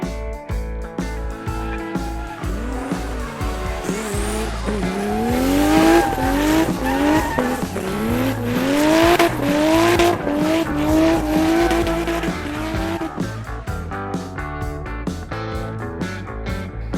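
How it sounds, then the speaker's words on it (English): A race car spins donuts in circles, with repeated rising-and-falling tire squeals over a loud revving engine, preceded by a short run of rhythmic engine pulses. "It's like a race car doing donuts, going round and round in circles."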